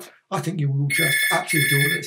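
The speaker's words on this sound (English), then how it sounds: "Sorry about the phone call." A telephone rings during a call in a repeating electronic trill under a man's continuous close speech.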